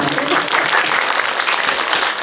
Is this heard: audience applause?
yes